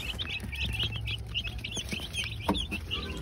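Young broiler chicks peck busily at feed alongside a hen, with soft clucks and chirps up close and a sharp peck or tap standing out near the end, no talking.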